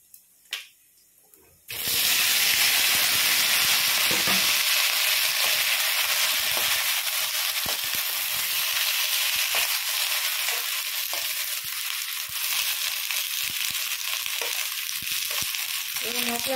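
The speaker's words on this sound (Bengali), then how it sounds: "একটু ভেজে নিচ্ছি। এবার সবজিগুলো দিয়ে দিচ্ছি।" Vegetables hit hot oil in a pan after a brief tempering of five-spice and radhuni, bursting into a loud, steady sizzle that holds strong and continuous with occasional stirring scrapes.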